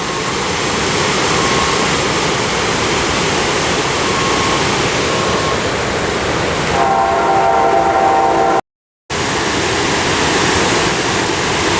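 A loud, steady train horn blares over a constant roar of rushing water, then briefly cuts out before the roar resumes.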